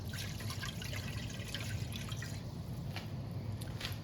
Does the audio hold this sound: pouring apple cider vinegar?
yes